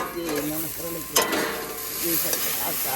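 Okra and potatoes fry in a pan with a steady sizzle, overlaid by a voice talking through most of it and a short clatter near the middle.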